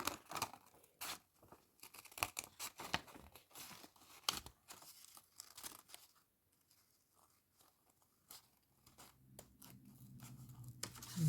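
Sharp, repeated tearing and crinkling bursts, like tape being pulled and ripped off a roll, close up, with a quieter pause before more rustling.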